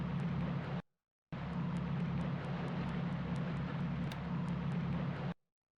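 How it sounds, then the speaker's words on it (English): An aircraft sound effect from a World War II strategy game as a patrol plane is shot down: a loud, steady engine drone that cuts out briefly, then roars on for about four seconds before stopping abruptly. "Sounds like I shot down a patrol plane."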